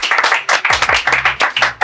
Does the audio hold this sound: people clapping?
yes